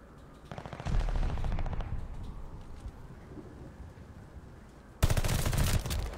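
Gunfire in a search and destroy match of a shooter video game, two loud bursts of rapid automatic fire, the first lasting about a second, the second starting abruptly near the end, with muffled game sounds between.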